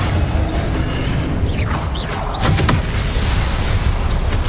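A Confringo blasting spell in a wizarding game erupts in a loud boom with crashing, bursting debris over a heavy low rumble, steady and dense throughout with no talking.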